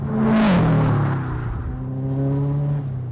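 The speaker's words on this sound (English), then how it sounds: "Oh, it's got a nice blow-off noise." A tuned Subaru STi turbo engine revs up, then a brief hissing whoosh of the blow-off valve sounds, followed by a steady engine drone; the car is close and fairly loud.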